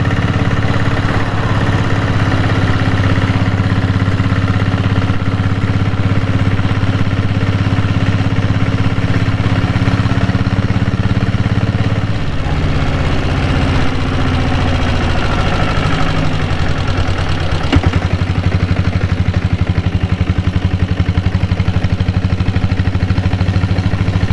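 A diesel Royal Enfield Bullet motorcycle runs at about 50 km/h. Its close, loud, low thumping engine note is steady, then shifts pitch partway through, and there is no talk.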